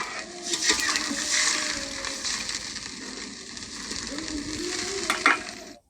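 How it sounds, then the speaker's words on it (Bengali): A potato and Malabar spinach stem curry sizzles steadily in a pan, a continuous close frying hiss with a few sharper crackles and stirring scrapes. "এই যে এখন আলু ও ডাঁটার তরকারিটি রান্না হচ্ছে।"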